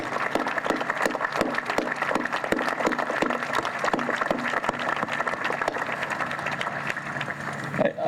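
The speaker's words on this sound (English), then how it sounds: "let's give them a round of applause for what they have done" Audience applause at the Lower Elwha Dam removal ceremony, outdoors, a sustained crackling patter of many hands clapping, fairly close and continuous.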